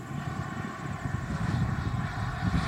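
A radio-controlled model airplane is flown at an R/C field on its first flight while its flaps are tested. A steady, moderately loud engine drone with a low rumble carries on throughout, heard from some distance.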